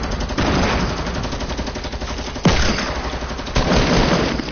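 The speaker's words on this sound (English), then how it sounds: "I'm getting shot at." Rapid automatic gunfire rattles almost nonstop through a Fortnite Battle Royale match, loud and close, with sharper bursts and impacts cutting in around the middle and near the end.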